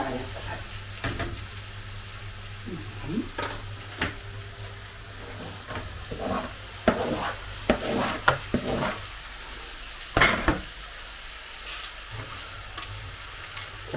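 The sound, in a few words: cucumbers frying in a dry pan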